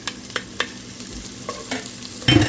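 Fresh basil is sautéed in a pan, with soft intermittent stirring scrapes over a faint sizzle that swells into a brief louder sizzle at the end.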